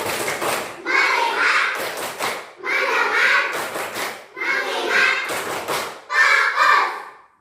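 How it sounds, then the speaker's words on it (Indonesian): A classroom of children performs the rhythmic "tepuk fokus" clapping chant, their voices chanting in unison over bursts of patterned hand claps, several phrases in a row, close and loud. "Tepuk fokus."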